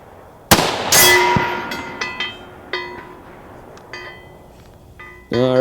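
A rifle fires a single shot at a target 300 yards out, a sharp loud crack followed by fading echoes and a few faint metallic pings, with a brief tonal sound near the end.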